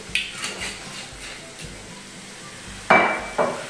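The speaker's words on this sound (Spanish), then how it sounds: "Le vamos a echar un chorrito de vino." Wine splashes into a pan of sizzling octopus and clam rice, bringing a sudden hiss of sizzling after quieter stirring and light clinks of utensils.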